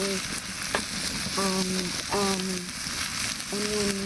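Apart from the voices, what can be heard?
breadcrumb, tomato, pepper and onion curry mixture frying in pan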